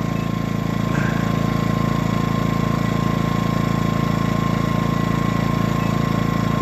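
A Predator 2000 portable generator runs under about 200 watts of load at a steady, constant speed, its droning hum holding unchanged throughout, close by and fairly loud.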